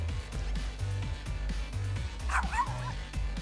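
Dog barking in the video game Tokyo Jungle, a rapid run of short, evenly spaced yips and woofs over a low game soundtrack, with someone briefly talking over it.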